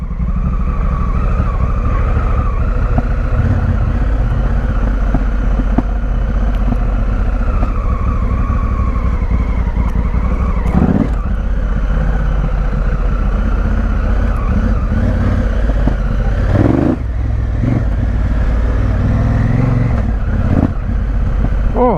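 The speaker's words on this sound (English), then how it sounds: "we shall ride down on the engine braking in one." A Honda Africa Twin motorcycle descends an off-road downhill in first gear on engine braking, its engine droning loud and close throughout with a few brief surges and dips, no talking heard.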